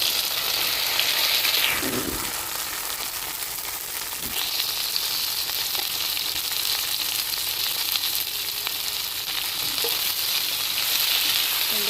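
Oil frying steadily in a pan before okra (ladies finger) goes in, a continuous close hiss with a brief stirring clatter near the start and a couple of faint knocks, no voices.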